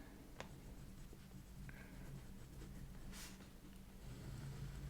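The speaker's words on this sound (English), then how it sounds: "let me write" A pen scratches steadily across the paper page of an A5 hybrid planner, soft and close over a low background hum, with no talking.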